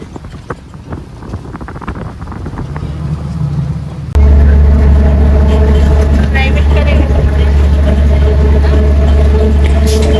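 A bus rumbles along a rainy road toward Dhaka, its engine drone and road noise jumping louder partway through, with wind buffeting and a voice talking over it.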